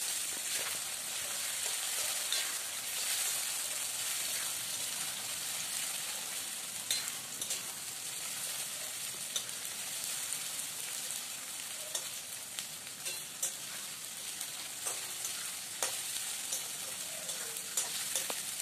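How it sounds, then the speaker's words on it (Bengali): Tomatoes fry with already-fried onions in a pan in a continuous, even crackling sizzle with scattered small pops, close and moderately quiet, with no voices. "এবার আমি টমেটোটা দিয়ে দিচ্ছি। টমেটোটা দিয়ে একটু ভাজা ভাজা করে নেব।"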